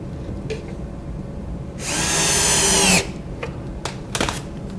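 A power drill whirs in a single burst of about a second, driving a screw through a cabinet drawer front in a workshop, with light clicks and knocks before and after.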